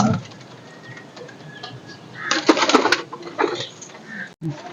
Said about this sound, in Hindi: बिलाल भाई देखें, ये एक कबूतर ये तकरीबन मेरे पास पिछले 5-4 सालों से है।